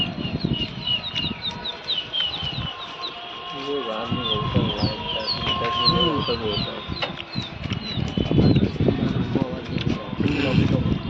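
Pigeons kept as a hobby take flight over rooftops in Lucknow, wings fluttering amid scattered chirps and bird calls, while people talk nearby throughout.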